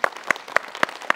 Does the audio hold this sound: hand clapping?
yes